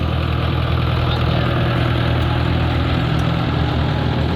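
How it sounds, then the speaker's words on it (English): Heavy diesel backhoe engine idles nearby with a loud, constant low rumble and rattling vibration, no voices. "So he's starting up the backhoe now."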